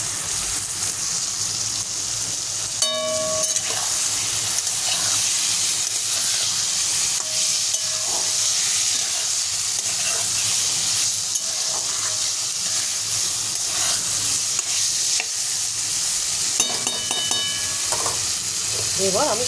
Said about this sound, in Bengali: আমি তার জন্য ডিমটা দিয়ে দেবো।